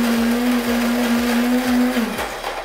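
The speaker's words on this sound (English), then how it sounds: "Grinding 2 cups is about 1 tablespoon of coffee grinds" A Cuisinart touchscreen burr coffee grinder grinds beans with a loud, steady motor whine and a hum that holds at one pitch. It cuts off abruptly near the end.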